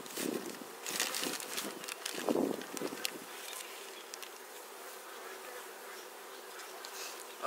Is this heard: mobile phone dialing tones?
no